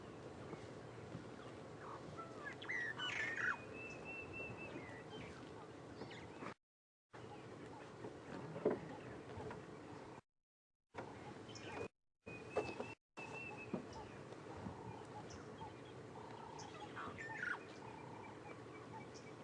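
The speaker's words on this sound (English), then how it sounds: "Awesome bird calls. You can hear a birch or starling" Distant starlings and doves call outdoors on an evening safari drive at Djuma and Arathusa, with whistled notes and softer cooing over a faint ambient hum, interrupted by a few short silent gaps.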